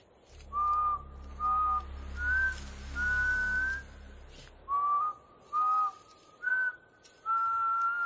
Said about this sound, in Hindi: तू सीटी क्या बजा रहा है बार बार